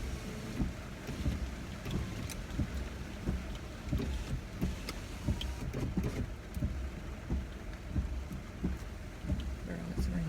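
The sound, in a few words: rain falling on a car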